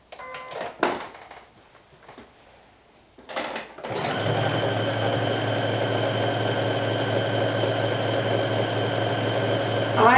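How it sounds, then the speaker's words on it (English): A sewing machine stitches a long seam in athletic knit fabric, starting after a few handling clicks and rustles, then running in a steady, even mechanical hum to the end. "I'm sewing again just the long side right now"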